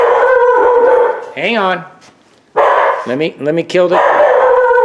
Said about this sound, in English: stop the killer dog